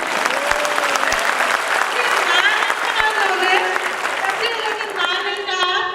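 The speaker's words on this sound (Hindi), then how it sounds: "एक ताली तो उनके लिए बनती है" Steady applause from a crowd fills the stretch, dense clapping holding at an even level, with voices and a few cheers rising over it.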